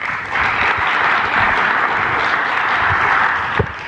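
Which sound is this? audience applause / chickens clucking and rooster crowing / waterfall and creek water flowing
audience applause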